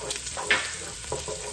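Finely chopped garlic frying in bacon fat and butter, giving a brief close sizzle with a couple of soft stirring scrapes and no talk.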